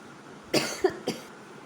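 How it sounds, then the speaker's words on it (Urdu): A woman coughs three times in quick succession, each a sharp, nearby burst with short gaps between, against a quiet room. "آج مجھے بہت کھانسی ہوئی ہے"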